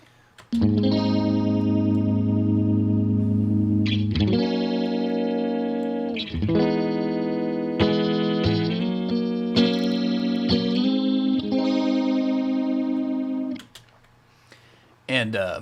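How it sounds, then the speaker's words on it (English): Electric guitar chords run through a many-stage phaser in Helix Native, swirling and sustained, loud and close, with the signal pushed into clipping and harsh distortion before cutting off near the end. "whenever I'm turning up the stages, you can kind of hear my my signal starts clipping"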